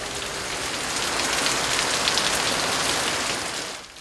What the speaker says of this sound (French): La pluie redouble.